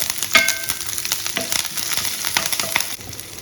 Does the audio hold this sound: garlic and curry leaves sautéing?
yes